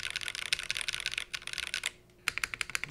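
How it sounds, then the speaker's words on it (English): Typing on a Cycle 8 mechanical keyboard, a quick run of crisp clacking keystrokes, a brief pause, then more evenly spaced clicks with a slappy spacebar smack, close and alone without speech. "But this spacebar does have a smack to it, a certain slappy sound, if you will."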